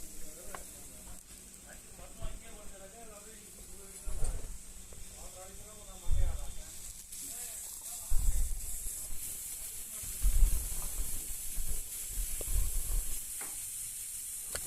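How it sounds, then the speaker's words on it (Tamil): Brinjal frying in oil in a pan with salt, a continuous soft sizzle broken by louder bursts of stirring and scraping every couple of seconds, close by, while a person talks over it. "இப்போ நம்ம கல்லை போட்டு நல்லா ஆயில் சேர்த்து நல்லா ஊற்றி அதுக்கு தேவையான உப்பு போட்டுட்டு நல்லா ஃப்ரை பண்ணிடலாங்க"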